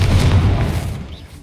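A Confringo blasting spell goes off against a barricaded archway in Hogwarts Legacy: one heavy, close boom with a deep rumbling body that decays over about a second, ending in a faint ringing tail.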